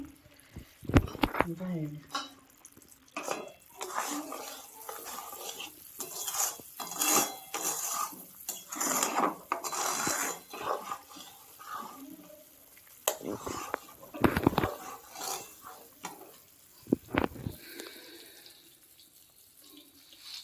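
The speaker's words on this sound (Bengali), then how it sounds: "এবার আমি চিনি বাদামগুলো দিয়ে দেবো।" Peanuts being added to hot sugar syrup and stirred in a pan while making homemade badam kotkoti candy, with scraping, clinking stirring strokes and irregular rattles, fairly faint, as someone talks over it.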